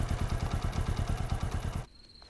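A motorcycle engine runs close by with a steady, rhythmic thumping beat for nearly two seconds, then cuts off abruptly into near-silence.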